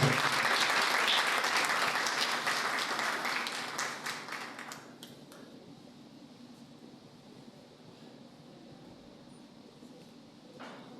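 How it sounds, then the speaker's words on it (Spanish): Audience applause at a local history and memory presentation, a loud, dense burst of clapping that fades over about five seconds to a quiet room hum, with a brief rustle near the end. "Así que fuerte el aplauso para Rafael Espinosa."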